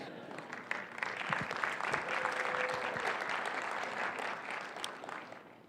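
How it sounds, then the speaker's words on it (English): Audience applause fills a Dr. Martin Luther King Jr. celebration hall, a steady, dense wash of clapping from a large crowd that holds evenly throughout without dying down. "You go ahead and clap, because it's true."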